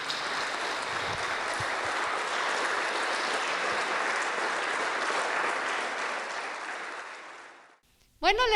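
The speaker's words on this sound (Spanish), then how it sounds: "Dale un aplauso al Señor" A church congregation applauding, loud sustained clapping from a crowd filling the room, holding steady for several seconds before cutting off abruptly near the end.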